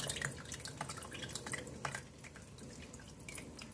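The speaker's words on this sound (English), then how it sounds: "tilt it and rotate, and the weight of the curds will help strain it." Whey from homemade mozzarella cheese curds drains through a tilted, rotated colander, a soft continuous trickle of dripping and splashing liquid, close and fairly faint, with no talking.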